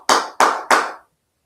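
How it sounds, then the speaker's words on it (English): Three sharp, evenly spaced hand claps close by, each ringing briefly before the next, stopping after about a second; no one speaks. "El Capitan is clapping."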